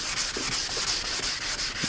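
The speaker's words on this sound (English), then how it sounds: "Keep sanding until it is all the same." Sanding a clouded car headlight lens by hand, heard as a close, steady rasping scrub in repeated back-and-forth strokes with no talking.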